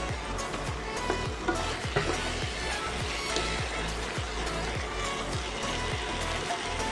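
Shredded cabbage with poppy seed paste sizzles and fries in a pan while being stirred, with a steady crackling hiss broken by repeated scraping strokes of a spatula at close range.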